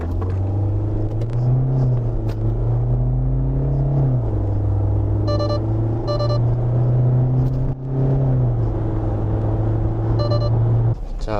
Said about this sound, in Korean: 시속 100km 가속 시간과 거리 측정해 봤습니다.